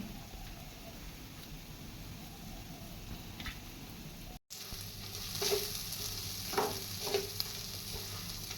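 Masala sautéing in a pan for vada pav, a faint low sizzle with soft stirring scrapes that grow a bit louder in the second half, no voices.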